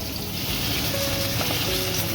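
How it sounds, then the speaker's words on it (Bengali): Pomfret fish frying in oil: a continuous dense sizzle and bubbling hiss held at an even, fairly loud level throughout the short stretch, with no speech. "মাছটা সুন্দর করে ভেজে নিই"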